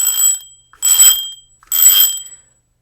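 A bicycle bell rings three times in quick succession, each bright metallic ring sharp, loud and close, with brief gaps between them.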